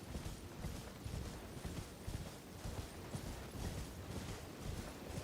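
Steady clip-clop of horse hooves in a quick, even rhythm in the video game Elden Ring: Shadow of the Erdtree, with a faint mechanical creak underneath and no voices.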